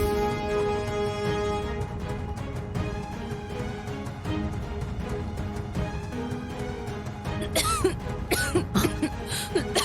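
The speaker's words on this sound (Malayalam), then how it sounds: "ടാബ്ലറ്റ് കഴിക്കുമ്പോ ചുമ മാറിക്കോളും" A woman coughs in a family drama scene, a few harsh coughs breaking over continuous background music.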